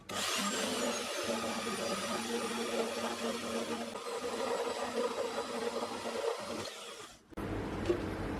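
A bandsaw cuts through a piece of scrap metal with a steady, grinding buzz that holds for about seven seconds before cutting off, then a brief faint clink.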